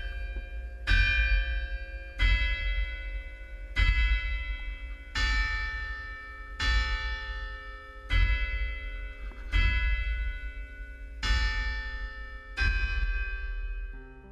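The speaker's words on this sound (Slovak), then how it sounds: "kolekcia 5 zvonov, ktoré sú umiestnené v evanjelickom kostole a vytvárajú zvonkohru" A carillon of five church bells in an evangelical church in Trnava, Slovakia, rings with about nine clear, resonant strikes at a slow, even pace, each one leaving a long ringing decay that overlaps the next.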